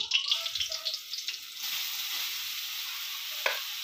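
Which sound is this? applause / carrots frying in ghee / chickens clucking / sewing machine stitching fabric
carrots frying in ghee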